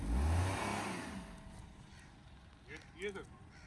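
A car engine rumbles during reverse driving practice, a low, close swell at the start that quickly fades into a quiet hum, with brief voices near the end.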